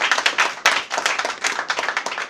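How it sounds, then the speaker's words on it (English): Audience applause at a charity foundation event donating hospital beds, a short burst of brisk, fairly close hand clapping with uneven rhythm that swells and fades. "Give him a round of applause, please."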